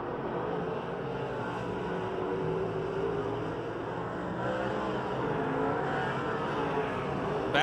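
Dirt track race cars at Pennsylvania Motor Speedway slide around the half-mile oval in a steady, droning roar of engines. The sound holds constant throughout, with a slight swell as the cars pass.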